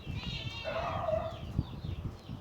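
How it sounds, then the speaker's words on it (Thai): Backyard chickens clucking and crowing a short way off, a drawn-out bird call over low background noise. "จะมีเสียงอ้อเพราะบ้านผมเลี้ยงไก่นะครับ"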